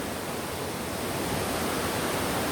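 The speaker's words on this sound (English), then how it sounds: "I'm going to take some sound of this waterfall because I need to bring this home." Waterfall in the North Georgia mountains, a steady, dense broadband rush of falling water that stays loud and even throughout with no other sounds.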